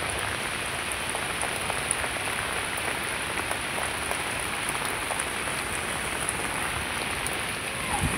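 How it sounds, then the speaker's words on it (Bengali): Heavy rain pours down in a village, a dense, constant roaring hiss with scattered drop impacts, loud and close, no voices, unbroken for the whole stretch. "পুরো বৃষ্টি পড়ছে।"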